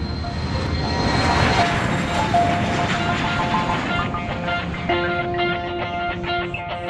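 Airplane engine drone heard from inside the cabin during a flight over the Himalayas, a steady loud roar with a faint rising hum near the end.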